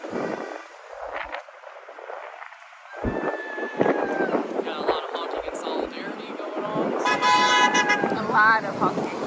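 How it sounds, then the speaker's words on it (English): A city bus horn honks several times at a street march, short tooting blasts rising over crowd noise and nearby voices talking, fairly loud and close, with traffic rumbling underneath. "lot of honking. I think even a Tart bus. Yeah, he did. Driver honked there."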